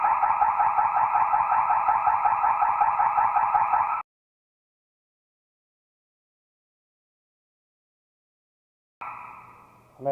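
An electronic building alarm in a new clubhouse sounds a loud, rapidly pulsing buzzing tone for about four seconds and then cuts off abruptly, leaving silence before a short blip of another tone near the end.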